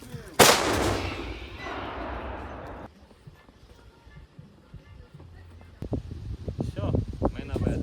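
One deafening shot from a Ukrainian Armed Forces tank cannon booms out and trails into a long rolling rumble, followed by people talking.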